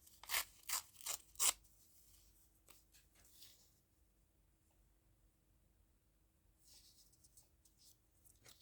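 Four crisp, close snips of scissors cutting paper for a collage, followed by softer rustling and sliding of paper, then near quiet with faint paper handling.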